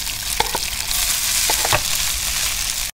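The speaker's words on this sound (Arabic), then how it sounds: "نحط بقى البطاطس بعد ما بشرناها عشان نديها تشويحه" Grated potatoes sizzle in melted butter in a pan, a steady close frying hiss broken by a few soft stirring scrapes.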